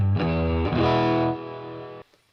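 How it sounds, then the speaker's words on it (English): Electric guitar played through a Boss Katana 50 MK II amp on its crunch channel with no noise gate: one distorted chord rings loud for about two seconds, then is abruptly cut, leaving faint hiss. "so here it is without noise gates, a bit hissy with the crunch channel"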